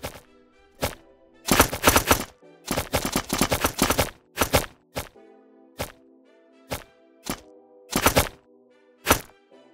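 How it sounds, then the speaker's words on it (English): Gunfire from another player in a multiplayer PVP shooter game, sharp broadband bursts in rapid volleys and single shots, loud and close, separated by short quiet gaps. "You can hear when he shoots things."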